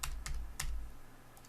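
Typing on a computer keyboard, three quick bright keystrokes in the first second, then two faint clicks near the end, close and quiet over a low hum.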